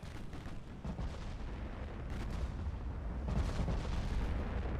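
Deep naval gunfire from 18-inch high-capacity HE shells in Ultimate Admiral Dreadnoughts, a dense rumbling roar of distant booms rolling on steadily with swells of heavier blasts, no voices.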